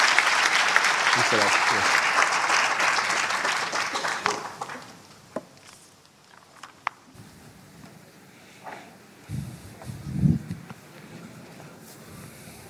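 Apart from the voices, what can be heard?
audience applauding the panelists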